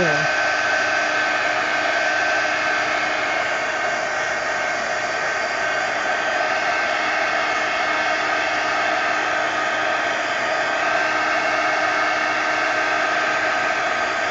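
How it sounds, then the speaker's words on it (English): A heat gun blows steadily while drying paint in a mini magazine art journal, producing a constant loud whooshing hum that stays close and unchanged throughout. "Okay, heat gun."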